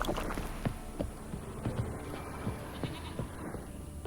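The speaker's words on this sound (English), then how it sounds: "Yeah, I can hear the goat too." Goat bleating in The Witcher 3, short repeated calls at moderate distance over a steady outdoor ambience with faint buzzing insects.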